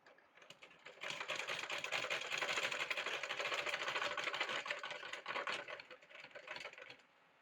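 A sewing machine runs steadily stitching closed the open seam of a yoke frock, a fast continuous whirring rattle that starts after a second, holds for about six seconds, then stops, close and fairly quiet.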